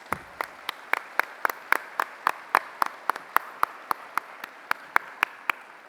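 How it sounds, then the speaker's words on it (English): Clapping at a National Philanthropy Day awards event honoring sponsors, heard as about twenty sharp, evenly spaced claps in a steady rhythm. The claps are crisp and close, with quiet room tone between them. "Let's take a moment to applaud the generosity of all our sponsors."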